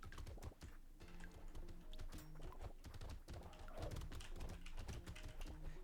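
A computer keyboard clatters with quick, irregular key presses during a Brotato gaming session, the rapid clicks running over steady background game sound.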